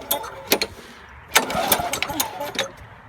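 A lawn mower engine being started, with several short sharp bursts of pull-start cranking before the small engine catches and runs roughly and loudly nearby, with voices speaking over it.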